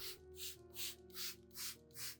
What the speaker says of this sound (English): Then gently mist it evenly over the entire orchid plant, including the leaves, stem, and root area.